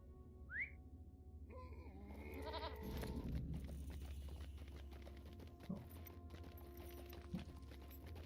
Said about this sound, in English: let's get on a goat